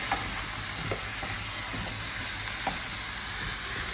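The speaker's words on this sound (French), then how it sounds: "Donc là, je vais tout mélanger." Butternut squash soup with bouillon is stirred in a pot on the stove. A soft sizzle runs under faint scraping strokes throughout.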